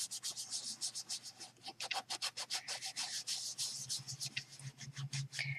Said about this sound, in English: So now I'm going to take my texture sponge and I'm going to give it a rub.